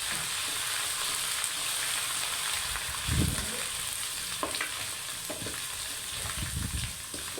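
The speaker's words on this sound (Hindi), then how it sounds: "इसे गोल्डन ब्राउन करेंगे लहसुन अदरक के पेस्ट को, ताकि इसका जायका ऑयल में आ जाए।" Garlic ginger paste fries in oil for Punjabi sarson ka saag, a steady sizzle with occasional stirring scrapes and soft clatters, close and continuous without speech.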